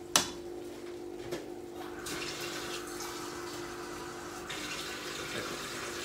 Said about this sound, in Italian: E mettiamo un pochettino d'acqua.